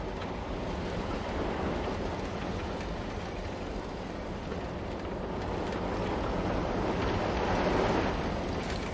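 A mine train roller coaster in Planet Coaster 2 runs with a steady, full rumbling roar that holds evenly and swells slightly near the end, with no talking.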